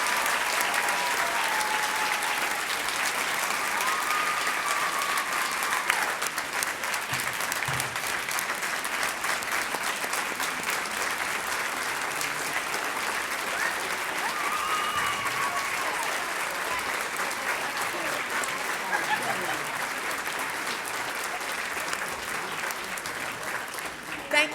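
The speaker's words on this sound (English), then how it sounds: "One more round of applause for our beautiful Silver Stars." A large audience keeps up a long, steady round of clapping for the Silver Stars performers, dense and sustained at an even level from start to finish, with faint voices mixed in underneath.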